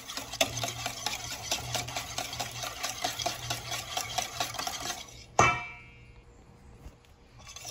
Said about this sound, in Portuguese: iogurte natural com a chia. E vamos misturar de novo